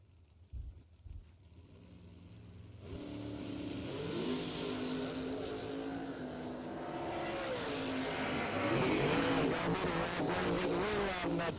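Dragsters at a bracket drag race start up with a few sharp low bangs, then rise into a loud, sustained engine roar that climbs in pitch as the cars rev, with engine sound layered over engine sound.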